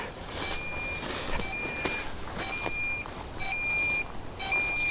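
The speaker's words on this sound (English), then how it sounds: "Start flashing and beeping." A lost DJI Mini 5 Pro drone emits a repeating series of short, high, thin beeps at regular intervals, moderately faint against steady outdoor background noise.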